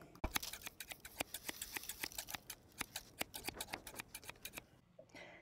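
Scissors snip through folded paper while cutting a snowflake, giving a quick run of sharp, close crisp clicks in an uneven rhythm that thins out and stops near the end.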